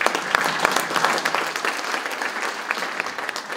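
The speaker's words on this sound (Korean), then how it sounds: "큰 박수 좀 부탁드리겠습니다" An audience at a Korean political party economic policy event claps in a steady, continuous round of applause, with a few sharp nearby claps standing out from the crowd's even patter throughout.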